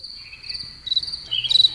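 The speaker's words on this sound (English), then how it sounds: "The crickets go loud." Crickets chirp in a steady, high, shrill trill that swells louder near the end, with a faint low hum underneath.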